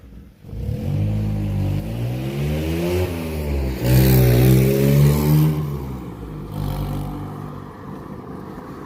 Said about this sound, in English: I'm just filming all the cars.